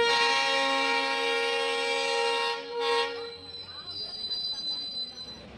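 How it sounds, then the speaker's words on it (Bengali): A train horn sounds steadily and loudly for nearly three seconds at a station signal as a passenger train passes, then cuts off, leaving rumbling, rattling wheel and track noise. "দেখো এই ট্রেনটা আসছিল ওই জন্য আটকে রেখেছিল।"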